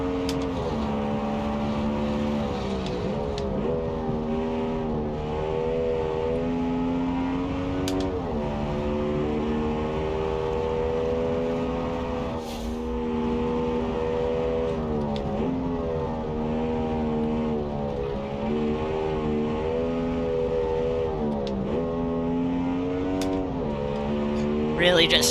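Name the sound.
F1 car engine driving up Pikes Peak in BeamNG video game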